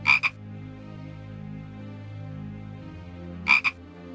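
A cartoonish frog in the retro point-and-click game Simon the Sorcerer gives two short double-croaks a few seconds apart. They are sharp and close, and a soft in-game music bed plays under them.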